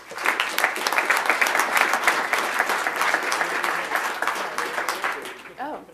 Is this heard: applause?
yes